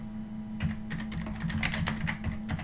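Typing on a computer keyboard: quick, light clicking keystrokes in an irregular run, close and fairly quiet over a steady low hum.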